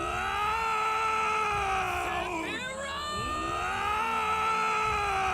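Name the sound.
people screaming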